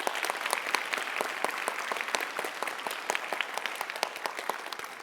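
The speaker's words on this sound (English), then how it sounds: "So a huge round of applause for all of them." An audience claps for young speakers at an event, a sustained, even round of applause with crisp individual claps throughout.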